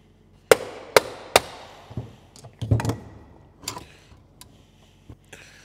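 A straight screwdriver works on the starter from a 1964 barn-find Jeep CJ5, making sharp metallic clicks and knocks: three quick strikes, then scattered softer taps and clunks, close and alone.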